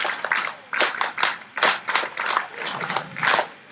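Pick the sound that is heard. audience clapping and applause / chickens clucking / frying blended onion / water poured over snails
audience clapping and applause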